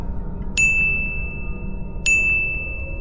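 Two bright phone notification dings about a second and a half apart, each a sharp chime with a ringing tail, loud and clear over a low steady background hum.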